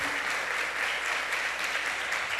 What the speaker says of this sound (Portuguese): Quem crê nisso, aplauda ao Senhor Jesus.